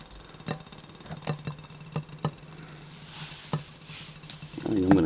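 A Coghlan fuel tab burns under a pot with a low steady flame roar, broken by scattered soft ticks and clicks, ending in a louder rattling burst.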